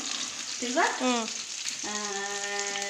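Egg sautéed with garlic, tomato and green chili hisses steadily in the pan, while two sustained, voice-like tonal hums rise over the sizzle.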